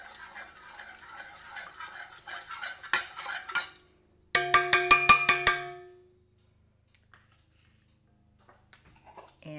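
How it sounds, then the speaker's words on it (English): A mixer's dough hook stirs warm water and yeast in a bowl for bread, giving rapid rhythmic clinking scrapes for several seconds, then a short burst of bright ringing metallic taps before quiet. "this is my dough hook for my mixer, so I'm just going to use it to stir"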